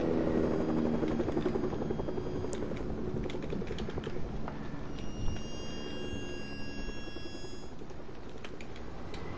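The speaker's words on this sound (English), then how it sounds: "There's a helicopter." A helicopter in a video game drones steadily and loudly throughout, its low rotor rumble constant, with light keyboard clicks tapping over it and no talk.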